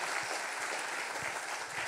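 A congregation at a church service applauds in a short burst of steady clapping, fairly faint and with no voices over it.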